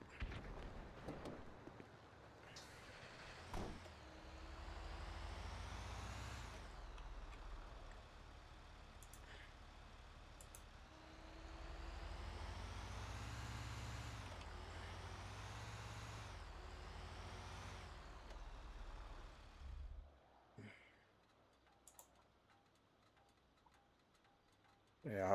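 A truck fitted with air brakes in FiveM, a video game, rumbles as its engine rises and falls in several swells, with sharp air-brake hisses in between, and the clip ends in quieter ticking.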